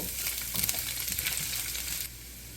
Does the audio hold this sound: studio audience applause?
no